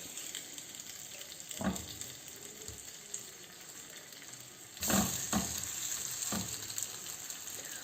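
Masala fish cooking over low heat on a grill pan, a soft continuous sizzle with a few sharp scraping clicks, growing louder and brighter midway, close, with no voices.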